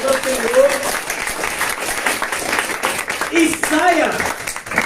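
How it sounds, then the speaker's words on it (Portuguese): Congregation at a church Bible study applauds with loud, steady clapping, close and dense, while a voice speaks briefly over it. "uma salva de palmas ao Senhor"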